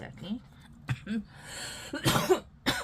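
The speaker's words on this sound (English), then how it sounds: "Oh my goodness, what is up with this cough today?" A few sharp coughs scattered among brief bursts of talking, close to the microphone, with a harsher hack near the end.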